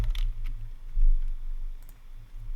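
Sparse keystrokes on a computer keyboard while typing the word Gmail into a spreadsheet: a few close, light clicks spaced irregularly over a low, steady hum, with no talking.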